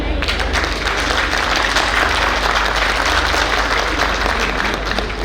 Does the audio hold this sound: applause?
yes